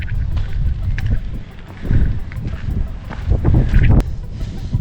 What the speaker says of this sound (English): test out the wind filter on the GoPro as well, because now it's windy